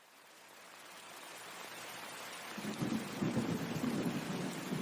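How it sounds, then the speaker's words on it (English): Thunder rumbles low and builds, swelling into rolling booms midway, while pouring rain falls on a cabin roof as a steady wash underneath, with no voices. "the evening was filled with the sounds of thunder as the pouring rain fell rhythmically on the cabin's roof"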